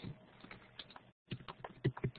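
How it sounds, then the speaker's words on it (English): Quick, quiet patter of keystrokes on a computer keyboard, a short burst, a brief pause, then more irregular taps, close by. "I would type in my instructions"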